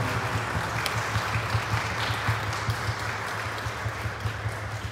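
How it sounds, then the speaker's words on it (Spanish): A congregation at a Catholic Mass for the Assumption of the Virgin applauds, a soft continuous patter of many hands heard from a distance under a low steady hum. "Un aplauso a todos ellos."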